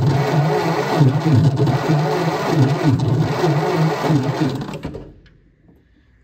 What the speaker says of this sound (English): Now I'll crank the engine over